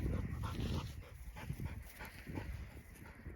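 A bird dog pants hard and whimpers softly after chasing a fetched object outdoors, the breaths coming in quick, close, rhythmic bursts with no voices present.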